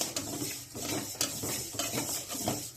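Moong dal dry-roasts in a pan as a spatula stirs it, giving repeated scraping and rattling strokes over a faint sizzle, close and fairly quiet.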